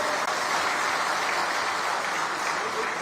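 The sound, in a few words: applause welcoming India's Vice President Jagdeep Dhankhar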